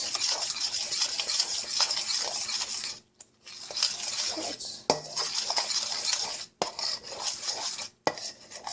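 Chickpea flour batter mixed in a bowl for vegan scrambled chickpea, with a utensil scraping and clinking against the bowl in quick continuous strokes, briefly pausing twice, no voices.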